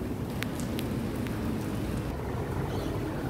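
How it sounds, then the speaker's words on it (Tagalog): Heavy rain falls near a metro station in Dubai during flooding bad weather, making a steady, dense rushing wash with a few faint ticks and no voices. "Kung ulan ni kusog na noon."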